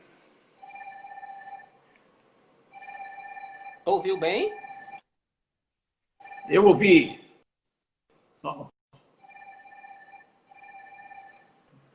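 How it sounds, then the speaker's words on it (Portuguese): Telephones ring in a repeated electronic two-tone pattern, in several separate bursts with silent gaps between, while a voice speaks briefly in between. "Aqui estão tentando entrar em contato comigo, estão ligando em mais de um telefone"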